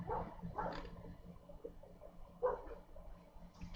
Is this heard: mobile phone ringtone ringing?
no